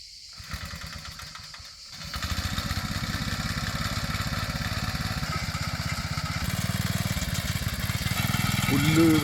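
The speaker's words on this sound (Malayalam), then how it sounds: "പുല്ല് വെട്ടിക്കളയുന്നതാണ്." A tractor engine runs steadily while cutting grass on a farm field in Georgia, a close, even mechanical drone that starts up after a brief quiet moment and holds a constant throb, growing slightly louder toward the end.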